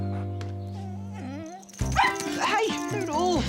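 A small dog yips, barks and whimpers in a short excited run amid a busy television scene, with voices and background music around it.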